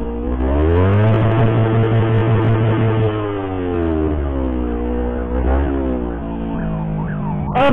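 An ambulance siren wails loudly and continuously, its pitch sweeping up and down, with low engine rumble underneath, while being escorted to Saiful Anwar Hospital.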